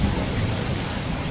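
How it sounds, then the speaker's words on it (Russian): Steady, dense rain hiss with a low rolling rumble of thunder underneath during Hurricane Irma, continuous and even throughout. "гром гремит, как обычный дождь"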